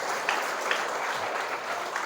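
An audience at a public speaking seminar at a school applauds, a dense, even patter of many hands clapping that fills the short stretch at moderate volume.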